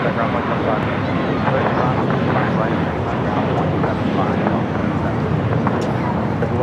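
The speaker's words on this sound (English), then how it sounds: "That was JetBlue 188 taking off to Boston on an A321." A JetBlue Airbus A321 takes off at LAX, heard as a broad, steady jet roar mixed with wind rumble, with some voice-like sounds underneath.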